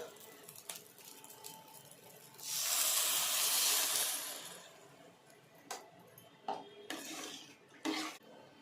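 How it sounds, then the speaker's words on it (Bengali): Rice and milk being stirred in a pot for coconut payesh, with scraping and clinking of a spoon against the metal, a soft hissing burst partway through, then several sharp short scrapes near the end; no talking. "দুধ অ্যাড করার পর আমি ভালোভাবে নেড়ে নিয়েছি"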